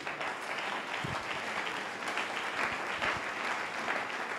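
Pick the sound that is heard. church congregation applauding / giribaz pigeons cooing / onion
church congregation applauding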